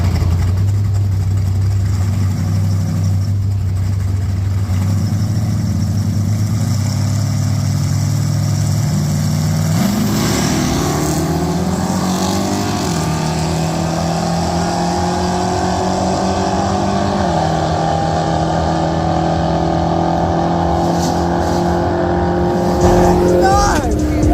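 Drag racing truck at the strip, its engine droning steadily then climbing through shifting pitches as it makes a loud, continuous pass with no talk over it.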